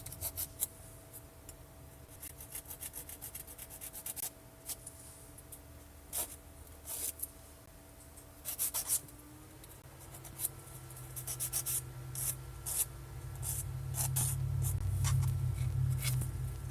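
A hand nail file rasps against fingernails during an at-home gel extension manicure, giving repeated short scraping strokes in bursts, close and fairly quiet, with a steady low hum underneath.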